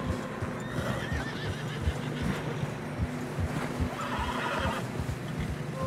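Horses in Red Dead Redemption 2 clip-clop along at a trot through fresh snow, hooves thudding rhythmically, and a neigh rises partway through over a faint wind hiss.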